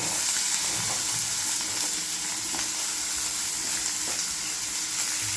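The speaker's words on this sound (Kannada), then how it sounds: "ಹೆಚ್ಚಿಟ್ಟಂಥ ಸಣ್ಣ ಹೆಚ್ಚಿಟ್ಟಂಥ ಹಸಿ ಟೊಮೆಟೊ ಹಾಕೋತೀನಿ ರೀ" Chopped raw tomatoes frying in a pan with oil, a loud continuous sizzle and crackle with no talking.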